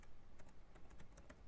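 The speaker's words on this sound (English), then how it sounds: "I'm going to start typing, and as I start typing, this will stay blank" Quick, faint keystrokes on a computer keyboard, several separate clicks at an irregular typing rhythm over a low background hum.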